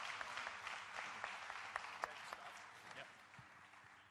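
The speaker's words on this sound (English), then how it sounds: "Another big round of applause, please, for Vitaly" Faint, distant applause greets a cocktail competitor named Vitaly at a Bacardi rum bartending semi-final, with continuous clapping that slowly tapers toward the end.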